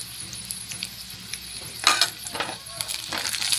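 Onions and prawns frying in a pan for a gongura prawn curry, a soft continuous sizzle with occasional sharp clinks of a utensil against the pan, close and fairly quiet.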